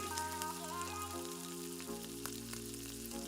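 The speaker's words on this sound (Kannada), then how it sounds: "ಒಂದು ಸ್ಪೂನಷ್ಟು ಸಾಸಿವೆ ಸ್ವಲ್ಪ ಕರಿಬೇವಿನ ಸೊಪ್ಪು ಒಣಮೆಣಸನ್ನು ಹಾಕಿ ಇಂದ ಮೂರು ನಿಮಿಷ ಫ್ರೈ ಮಾಡ್ಕೊಳ್ತಿದ್ದೇನೆ" Mustard seeds, curry leaves and dried chillies fry over a low flame for a Coorg-style wild mango curry, giving a steady soft sizzle with light crackle throughout, near and alone with no talk.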